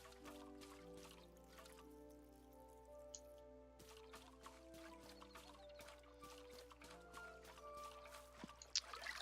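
A chicken in the video game Tales of the Shire clucks softly against a quiet, steady backdrop of gentle game music and light dripping sounds, faint throughout.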